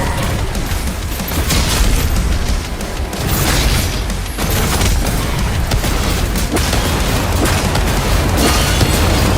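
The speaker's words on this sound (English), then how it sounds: "We can use the rocket launcher!" Continuous heavy booms and blasts from rocket launcher fire in DOOM The Dark Ages, loud and dense with overlapping explosions and crackling debris across the whole stretch.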